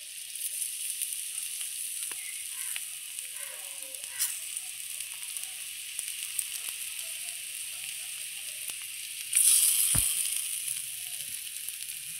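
Pieces of sojikochu (taro) fry in hot oil, giving a continuous bright sizzling hiss with occasional light clicks and one sharp utensil knock near the end, with no talking.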